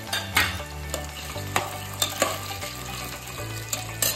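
Peas and peanuts are stirred into a spiced veg pulao mixture in a pressure cooker, with soft sizzling beneath repeated scraping strokes of a spoon against the pot.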